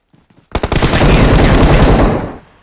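Loud sustained automatic gunfire from a weapon in PUBG on the Sanhok map, a dense rapid burst lasting about two seconds after a few faint clicks, then cutting off.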